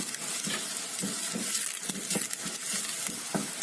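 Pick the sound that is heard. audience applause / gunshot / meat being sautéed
meat being sautéed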